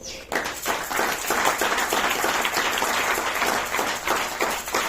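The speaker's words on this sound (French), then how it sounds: "Acclamez pour le Seigneur" A church congregation at a Sunday service breaks into lively applause, dense rapid clapping from many hands that swells quickly and holds steady throughout, close and loud.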